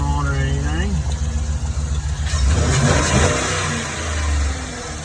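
A 2009 Chevy Express van engine revs up and settles back near idle, a steady mid-range rumble with a swell in the middle, while someone talks over the start.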